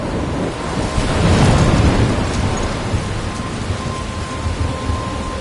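Storm ambience in Life is Strange: a steady roar of heavy rain with a deep rumble of thunder swelling near the middle, continuous and fairly loud, with no talking.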